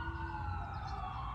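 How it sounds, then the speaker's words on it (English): An ambulance siren on a California street wails steadily nearby, a sustained tone over low road and engine rumble, with no talk over it. "that's an ambulance, and here in California, ambulances aren't allowed to do things like run red lights"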